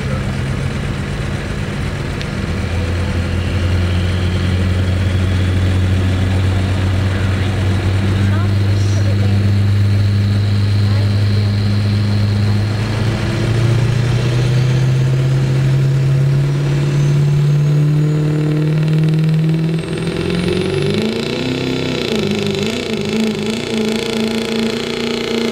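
A diesel pickup in the 2.6 class at a county fair truck pull roars under load, engine pitch climbing steadily over a long pull before dropping near the end, loud and close, with announcer talk over it.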